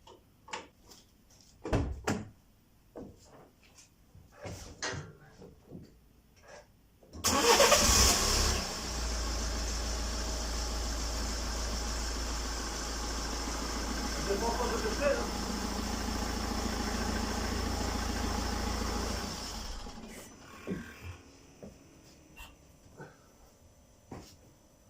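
A BMW F20 hatchback engine cranks and catches with a sudden loud start, then idles steadily for about twelve seconds before shutting off, with workshop clatter and handling noises before and after.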